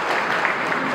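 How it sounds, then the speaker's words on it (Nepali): An audience at an optical retailers' meeting claps loudly and evenly, a dense burst of applause that fills the whole short moment. "जोरदार तालीका साथ उहाँहरूको हौसला पनि बुलन्द गरिदिनुहोला"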